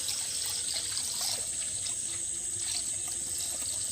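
Homemade almond milk is poured into a container for a set curd; it runs as a soft, continuous liquid trickle up close, steady throughout, with no voices.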